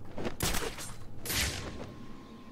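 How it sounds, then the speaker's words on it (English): Gunfire from a bell tower in the video game Batman: Arkham City, a loud, booming shot followed by a second blast and a reverberant, echoing tail. "The gunshot came from the bell tower."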